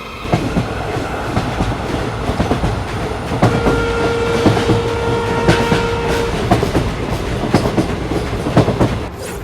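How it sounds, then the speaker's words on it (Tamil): A train arriving at a station rumbles loudly close by, with rhythmic clickety-clack of wheels, metallic squeals and sustained tonal whines, no voices. "கரெக்டாக அப்போன்னு பார்த்து ட்ரெயின் வந்துடுது."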